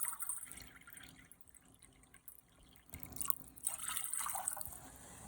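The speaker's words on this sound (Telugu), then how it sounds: "స్టవ్ ఆన్ చేసి బౌల్లో 2 కప్స్ వాటర్ పోసుకొని బాగా మరిగించుకోవాలి." Two cups of water heat in a bowl on the stove for sago payasam, giving faint, irregular bubbling and dripping that swells slightly toward the end.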